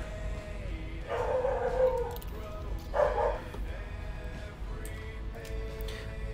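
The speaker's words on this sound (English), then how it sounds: "You'll have to pardon the dog." A dog barks and whimpers in two bursts, a yelping cluster followed by a shorter whine a second later, then softer whimpers, heard indoors over a low background hum.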